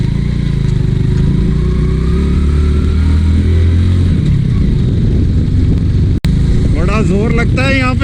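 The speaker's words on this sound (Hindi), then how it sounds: "जोर लगता है यहाँ पे बाइक्स का" Motorbikes grind in first gear up a steep, rough mountain road near the Upper Neelum gate in Kashmir's Sharda Valley, a loud continuous engine drone throughout, with voices talking over it near the end.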